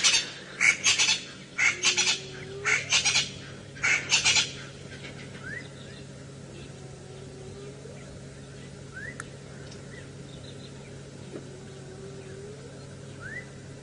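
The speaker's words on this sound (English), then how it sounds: "Oh, listen, there's some hyena calling." A few distant rising whooping calls of a hyena, spaced several seconds apart over a quiet outdoor hum on an early-morning safari drive, after a burst of loud squawking bird calls at the start.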